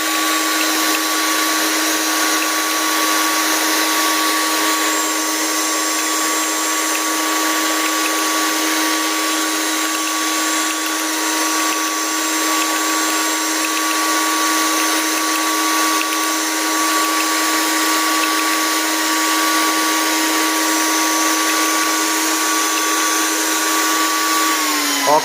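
A Ninja Foodi Power Nutri 2-in-1 blender running its mix program: a loud, steady motor whine with a constant pitch, unbroken for the whole stretch and dropping only at the very end.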